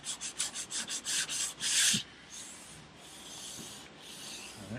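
Hand sanding along the edge of a boat hull: a run of quick, regular rasping strokes followed by a longer steady scrub, close by and fairly loud, with no talking.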